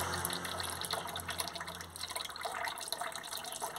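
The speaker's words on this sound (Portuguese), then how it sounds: "Tem um biquinho d'água caindo." A small trickle of water falling, a steady splashing and dripping stream heard close up beside flowering guapé plants, with no talking.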